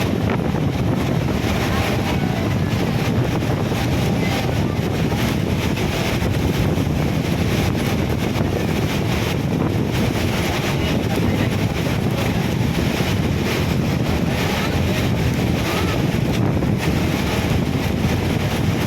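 Powerful wind blows steadily and loudly over a boat, buffeting the microphone, with a faint wash of water beneath.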